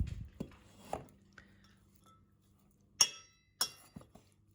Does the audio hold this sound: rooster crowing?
no